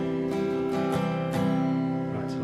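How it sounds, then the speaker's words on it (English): Acoustic guitar strummed with fully open, unmuted strings, a few ringing chord strokes sounding close and clear on their own. "Then you're going to play it with open, just fully open strings, open strumming, no palm muting."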